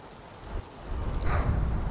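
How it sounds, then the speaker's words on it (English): Stormy weather rolls in the video game Buoyancy, a low rumbling wash of wind and rain swelling in loudness toward the end, with a soft hiss of gusts rising over the rumble. "And we have a storm that's moving right toward us."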